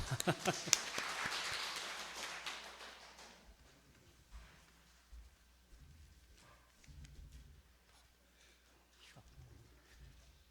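An audience at a lecture event claps in a dense burst for about three seconds, then the applause thins out and fades into quieter scattered sounds and room noise.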